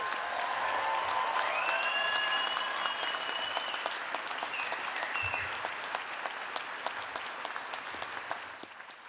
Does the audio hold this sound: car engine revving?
no